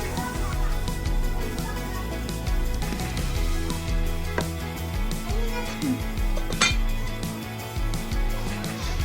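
Pots, dishes and utensils clink and clatter in a home kitchen while water boils during hurricane preparations, with steady clanking and scraping over a continuous background hum.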